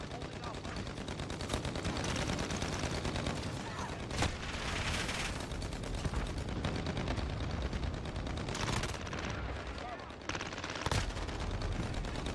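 Sustained automatic gunfire from a CX-9 submachine gun in Modern Warfare, dense rapid bursts filling the whole stretch with brief pauses, loud and close, with faint talk underneath.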